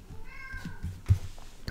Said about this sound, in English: if you heard a meowing